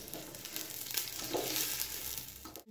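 Onion and garlic fry in hot oil in a pan, a steady close sizzle with occasional stirring scrapes and no voices.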